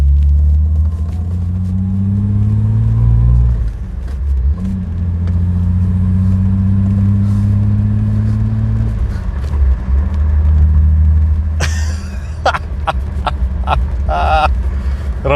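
A Ford Cortina XR6 with 77,255 km on the clock drives through a quiet area, its engine rumbling steadily and rising in pitch as it revs through the gears, loud and close from inside the cabin.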